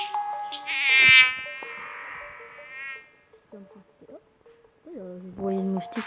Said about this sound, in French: Vous voyez une moustique totalement désagréable.